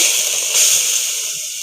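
Tomato, coriander, onion and garlic sizzle steadily in a hot wok, a continuous bright hissing crackle that fades slightly toward the end, with no voices.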